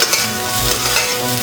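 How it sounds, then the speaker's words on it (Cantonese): Lamb that was blanched with ginger slices and cooking wine is stir-fried in a wok, giving a loud, continuous sizzle with soft scraping from the stirring up close. "炒到佢表面啊金黃咁就得噶啦。"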